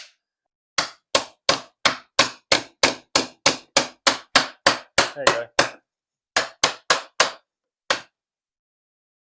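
A rubber mallet strikes a car gearbox in a steady run of about a dozen evenly spaced thuds, pauses briefly, then lands a few more blows. A voice speaks briefly.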